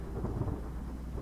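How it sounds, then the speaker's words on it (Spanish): Low, steady thunder rumbles with rain in a Midnight Shift horror game, a brief continuous roll with no talking over it. "truenos"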